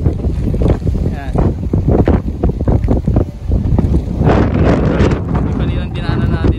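Strong typhoon wind over flooded streets in Binondo, Manila buffets the microphone with a loud, constant roar, rising and falling in gusts over the whole stretch.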